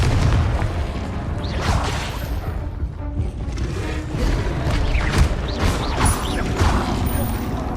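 Confringo fire spells explode in the Hogwarts Legacy video game, delivering repeated close booms and crackling bursts layered with magical whooshes and other combat effects, alongside a player's voice.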